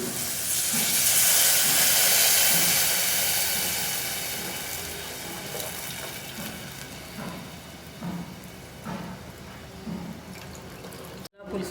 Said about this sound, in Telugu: కారం వేగాక దీనిలోకి పులుసు పోసుకోవాలండి